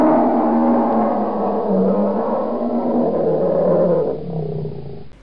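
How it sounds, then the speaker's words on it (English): A polar bear lets out one long, deep, sustained roar, loud and close, with no other sound around it, fading out at the end. "Polar bears growl, roar, chuff, or bray."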